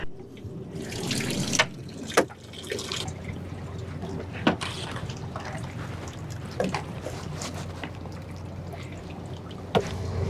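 Water runs steadily at a boat dock as a $250,000 center console boat's engines are flushed, a continuous splashing rush broken by a few sharp clanks and knocks, with no voices.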